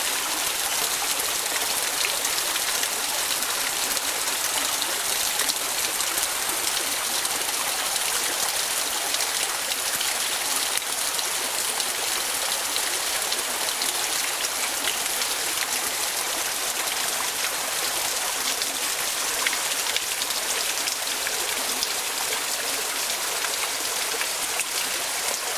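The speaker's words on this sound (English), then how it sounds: "It's a kind of a pretty shot of water coming off the edge." A small waterfall of water spilling off an edge outdoors on a woodland walk, a steady broadband rushing and splashing that holds even and fairly close for the whole stretch, with no voices.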